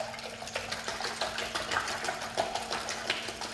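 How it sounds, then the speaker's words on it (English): A wire whisk beats eggs with milk in a bowl, giving a fast, steady rattle and clatter that carries on throughout, close and fairly quiet, with no talking. "I'm going to beat those with 2 cups of milk. Just doing it with my whisk"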